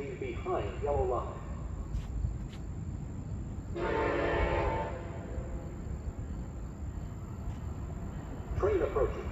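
A train rumbles in the background approaching Pawtucket/Central Falls station while its horn sounds once for about a second; an announcement voice warns to stay behind the yellow line at the start and end.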